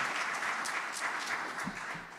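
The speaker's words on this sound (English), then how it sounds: "Applause for a well-presented thing." Applause from an audience at a town council election debate, a steady wash of clapping that fills the short stretch alone without talk.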